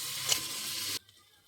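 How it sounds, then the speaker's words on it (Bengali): A loud steady sizzle of spices and fish curry base frying in a pan while being stirred, cutting off abruptly after about a second. "তা চলো ভালো করে একটু কষিয়ে নিই"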